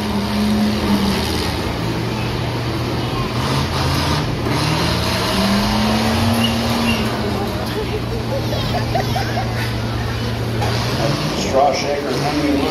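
Combine harvester engines roaring steadily at a combine demolition derby at the Columbiana County Fair in Lisbon, Ohio, loud and continuous under an announcer talking over a public address system.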